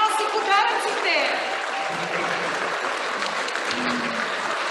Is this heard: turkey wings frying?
no